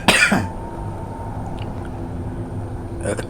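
A man clears his throat with one sharp, harsh rasp right at the start, followed by quiet room noise and a faint returning murmur at the end.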